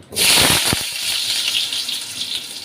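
Cut potatoes drop into hot mustard oil in a wok, setting off a sudden, loud, hissing sizzle that holds steady and close.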